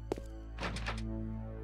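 A locked door in the Resident Evil Code Veronica video game is tried: a single soft thunk, then a short burst of rattling handle clatter, heard alone over a steady low hum.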